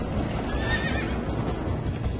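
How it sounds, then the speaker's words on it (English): A horse whinnies in the Minecraft: Story Mode video game, a single bright neigh rising and falling over steady rumbling hoofbeats and noisy game background. "Horses!"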